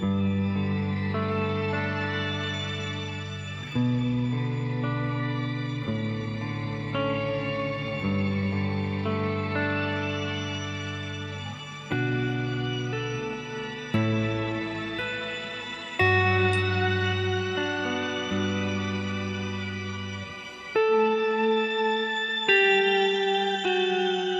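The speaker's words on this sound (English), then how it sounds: "So there's like an octave down thing going on, just really subtle." Electric guitar played through an EarthQuaker Devices effects pedal with a subtle octave-down effect, sustained chords and notes changing every few seconds, each swelling and decaying with a thick low undertone, close and alone with no talk.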